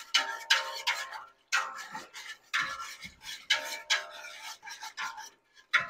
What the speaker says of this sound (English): we want to just stir it constantly until that sugar and pectin dissolves in there